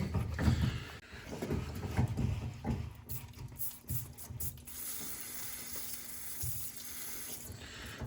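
Water hisses and spurts from a Schrader valve on a heating system during a no-heat boiler service call, with metallic clicks and rattles layered over a steady rushing flow.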